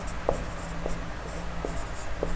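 Chalk or marker writing on a board during a Hindi-language school lesson on differences between solids, liquids and gases: a few short separate strokes and taps, close and quiet, with no talk over them.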